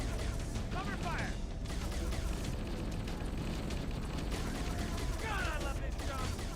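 Sustained video-game gunfire, dense overlapping bursts of shots and blasts heard continuously at close range, with game voices calling out over the shooting.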